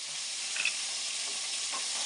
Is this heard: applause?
no